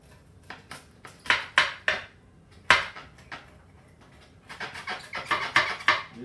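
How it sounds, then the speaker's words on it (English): A Pampered Chef pizza cutter slicing through a crispy pizza in a pan, a series of sharp crunchy cracks and scrapes in bursts, close and clear with short pauses between strokes. "I'm going to give this a cut and let's see how it is. And this is a Pampered Chef pizza cutter"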